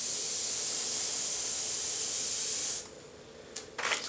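DuraCoat finish hisses from a spray gun onto a rifle in a long, steady thin coat that stops abruptly, followed by two short spray bursts.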